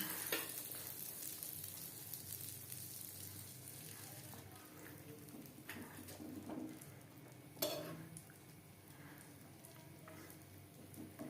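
Spinach paratha fries in a pan in a mix of refined oil and butter over high to medium flame. A quiet, steady sizzle and hiss runs throughout, with a few soft utensil clinks and bumps.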